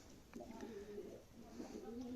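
Pigeons coo softly in a coop, a low murmuring warble rising and falling continuously, faint and somewhat distant with a light background hiss.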